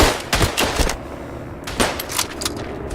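Gunfire rattles through a Verdun match, the World War I shooter, with a few sharp, loud shots and short bursts spaced over a dense battlefield background.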